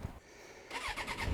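Suzuki GSX750F motorcycle with a carburettor and choke: a brief quiet crank, then the engine catches and idles with rising, uneven pulses, heard alone and close.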